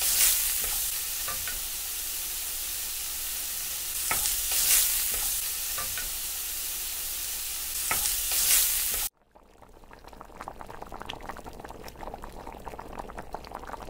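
Cooked chicken tipped into a hot clay pot with shredded ginger sizzles loudly and is stirred with scraping strokes, then abruptly drops to a quieter, bubbling simmer with light crackles.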